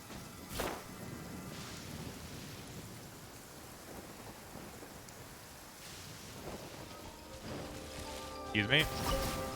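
Steady rain falling in the game Genshin Impact, a continuous broadband hiss with occasional rumbles, while a person talks over it and faint music sits underneath.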